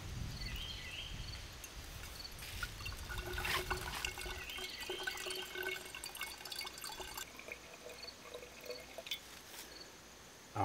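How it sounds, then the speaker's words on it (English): Water pours from the delivery pipe of a ram pump fitted with a 1/2 inch waste valve, a steady splashing trickle with drips and gurgles running continuously at moderate volume. "I now have the delivery pipe up here with the 1/2 inch waste valve, and it does seem to be less water."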